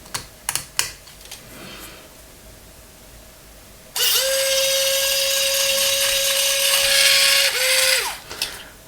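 A few sharp clicks, then a small electric drill whirs steadily at high pitch for several seconds while drilling a plastic scale-model aircraft part, dipping briefly before winding down.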